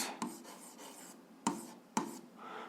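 A pen writes an algebra equation on paper, with soft scratching strokes broken by three sharp taps, close and quiet with no talking.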